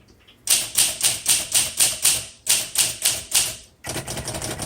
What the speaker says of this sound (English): if you are a writer, you need this typewriter